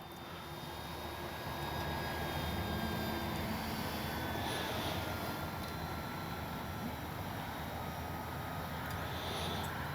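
An FMS Cessna 182 Skylane foam RC plane drones steadily overhead, its small electric motor giving a constant whine with a slight rise and fall as it passes, heard alone at a moderate distance.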